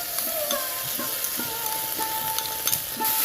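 Vinegar, tomato sauce and red chili sauce are stirred in a frying pan, a spoon scraping in a quick steady rhythm over a constant close sizzle, with no talking.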